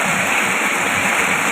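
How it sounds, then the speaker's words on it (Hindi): Fresh water stream pouring into the sea from a channel, a steady broadband rush of flowing water, close and continuous with no pauses. "ये मीठा पानी है, सीधा जो है ना समुंदर में जा रहा है।"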